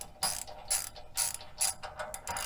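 Ratchet wrench tightening bolts on a Black Widow AMC-400L motorcycle hitch carrier, five loud close bursts of rapid clicking separated by short pauses, with no talk.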